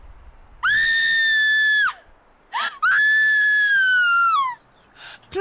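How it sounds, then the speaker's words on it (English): A child screams two long, piercing, sustained shrieks, each lasting over a second, with brief sharper yelps between and after them, loud and close. "I'll scream."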